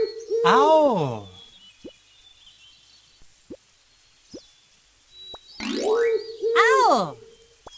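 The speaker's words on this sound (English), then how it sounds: "Owl." An owl gives two loud, close hoots several seconds apart, each a rising then falling call. Soft plops and drips fall in the quiet between them.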